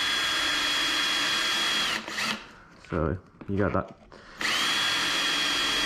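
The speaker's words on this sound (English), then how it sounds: "you're going to start going around to all of these plastic welds, and you're going to start drilling them out one by one" An electric drill bores out plastic welds on a Lexus IS250/350 door panel, a loud steady whine for about two seconds, then short bursts between brief remarks from a man, and a final sustained run.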